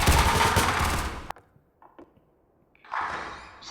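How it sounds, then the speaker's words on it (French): A loud automatic-weapon burst in the survival game 7 Days to Die, a dense rapid rattle lasting over a second, followed by a quiet gap with a few faint clicks and then another burst starting up near the end. "Ça me fait rire comment je tire en rafale."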